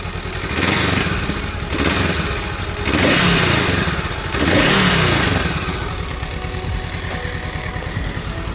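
A new motorcycle's engine revved in several successive bursts, each a loud swelling roar that falls back to a rumbling idle, repeated about four times before settling into a steady idle.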